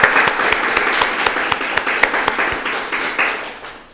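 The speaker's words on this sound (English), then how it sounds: "If we could have a round of applause for our artists" An audience at an organisation's tenth-anniversary celebration applauds the artists, a dense burst of clapping that gradually fades over a few seconds.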